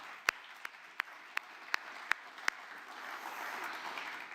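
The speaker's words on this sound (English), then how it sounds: "definitely worth a round of applause" Scattered applause at a film festival award ceremony: a few sharp, separate claps ring out at a steady pace at first, then fade into a low, soft patter of clapping.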